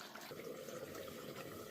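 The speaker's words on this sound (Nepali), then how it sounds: "अहिले अलिकति सुक्खा भएर चाहिँ पानी हालिदिनुपर्छ" Water poured into a pot of simmering meat soup cooked Nepali style, a steady splashing gush that runs unbroken for a couple of seconds with no one speaking.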